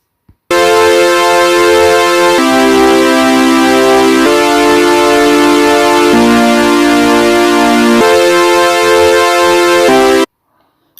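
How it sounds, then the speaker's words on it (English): A loud, bright synth chord from FL Studio Mobile, built from three layered voices, is held for about ten seconds, shifting between a few chord positions before it cuts off abruptly. "let me just play a chord"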